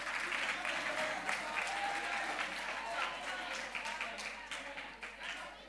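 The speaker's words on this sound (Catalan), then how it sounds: "un aplaudiment per IQ" An audience applauding at a Catalan digital quiz event, brisk scattered clapping from a crowd that swells early and gradually thins, with voices mixed in beneath.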